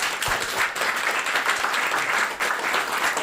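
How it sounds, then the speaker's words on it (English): Applause from a live comedy audience at the Chunky Fringe 2023 show for the guests, a dense, steady wash of many hands clapping that carries on throughout without pause. "So, a big round of applause wherever they are."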